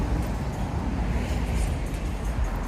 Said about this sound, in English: I see some cars passing by me on the right.